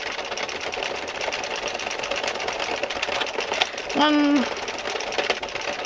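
An Addi circular knitting machine cranked through rows of yarn gives a steady mechanical clatter throughout, with a person talking over it and a short tonal squeak near the end.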